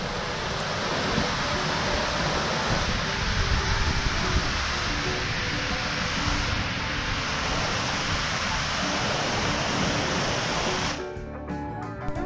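Water from a small, two-foot waterfall at Magnolia Springs State Park, Georgia, rushes in a steady, close hiss that stays constant before shifting briefly near the end.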